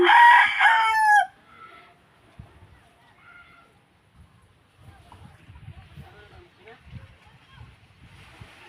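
A loud rooster crows once at the start in the countryside of Valencia and Dimiao, Bohol, then quieter rustling, clucks and low background noise follow.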